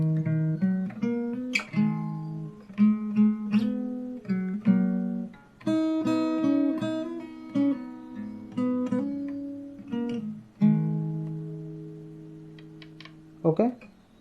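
Fingerstyle acoustic guitar plays the outro of a song arrangement, plucked notes and chords ringing and decaying with pauses between phrases, close and alone, ending on a few quick light taps.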